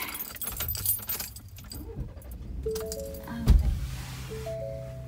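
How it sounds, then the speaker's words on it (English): Car keys jangle up close, then a vehicle's engine cranks and catches with a sharp burst around the midpoint and settles into a steady low idle, on a snowy day after grocery shopping. "I have to start the car."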